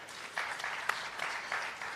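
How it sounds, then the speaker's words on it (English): Audience members at an indoor real estate foundation day event clap briefly and fairly softly, making an uneven patter of hands. "Every time they are asking to clap for every meeting."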